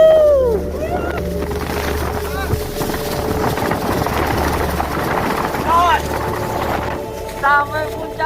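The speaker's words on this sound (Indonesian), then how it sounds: "Sampai puncak, anginnya kencang banget" Strong wind roars and buffets the microphone at the summit of Mount Slamet, a low rumbling gust that persists throughout, with people talking over it.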